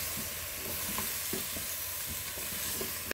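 Turmeric being stirred into a pot of chicken cooking with cà, giving steady sizzling under soft scraping and stirring strokes, close and moderately quiet.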